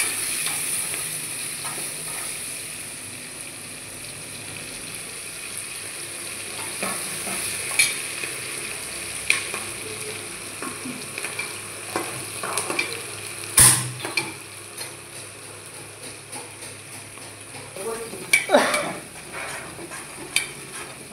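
Onions fry and are stirred in a pan for Mangalore-style mutton dalcha, a continuous sizzle under intermittent scraping and clinks of a spatula against the pan, with a sharp metallic knock partway through.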